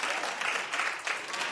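Brief burst of steady clapping from a TV talk-show studio audience, moderately loud and continuous with no voices on top.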